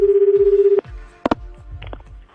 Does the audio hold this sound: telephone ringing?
yes